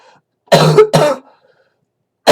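Two sharp, loud coughs come close together, then silence as the next one begins.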